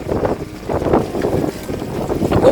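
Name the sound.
strong wind during a rainstorm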